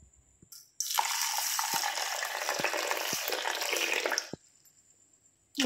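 Plain water pours from a container onto fenugreek seeds in a vessel, a close, steady gush that runs for about three seconds and then stops abruptly, with quiet clinks before and after.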